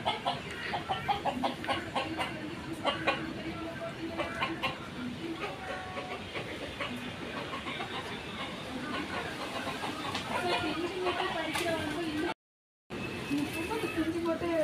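A hen in a home garden clucks repeatedly in short bursts while a person talks throughout, with faint background noise underneath.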